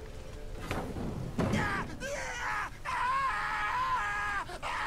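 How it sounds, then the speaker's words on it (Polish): A man's drawn-out, strained screams of pain in a Witcher 3 cutscene, loud and near, with a heavy thud and ragged wails rising and breaking over a rumbling backdrop. "Uszy mi więdną od tego wrzasku."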